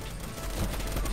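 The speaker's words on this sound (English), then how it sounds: "They're shooting straight through the walls." Gunfire in the Teardown video game, a dense crackling fusillade of rapid shots fired through walls, loud and continuous over one brief burst.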